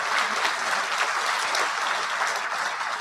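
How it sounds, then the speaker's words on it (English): Steady, dense applause from an awards dinner crowd, loud and continuous for the whole stretch with no talk over it. "So thank you for your continued round of applause for yourself."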